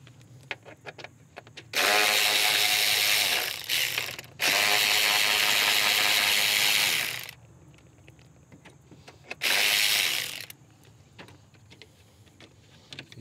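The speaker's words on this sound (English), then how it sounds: "We'll go ahead and remove the two 10 millimeter bolts for the throttle cable bracket here." Ratchet wrench removing two 10 mm bolts from a throttle cable bracket on a GM Vortec/LSx engine, three bursts of rapid, loud ratcheting clicks separated by short pauses.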